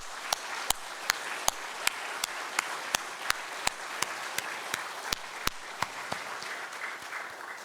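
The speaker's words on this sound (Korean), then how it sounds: "우리 큰 박수로 한번 영광을 돌리도록 하겠습니다" A church congregation at a Friday prayer meeting claps together, sharp distinct claps landing in a steady, even rhythm over a soft wash of room noise and carrying on without a break.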